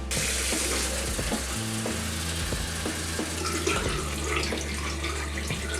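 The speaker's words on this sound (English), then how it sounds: "I'm gonna rinse this in water." Steady running water splashes and hisses for several seconds as photographic film is rinsed after Monobath developing, like a tap flowing over something in a sink, with faint clinks underneath.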